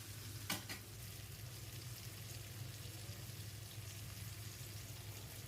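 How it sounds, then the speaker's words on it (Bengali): Two fish fry in oil in a pan during home barbecue-style cooking, giving a constant low sizzle with a brief stirring scrape early on and no talking. "তো মোটামুটি এই যে ভাজা হয়ে যাচ্ছে, আমি আরেকটু উল্টিয়ে পাল্টিয়ে এগুলোকে কড়া করে ভেজে নেব।"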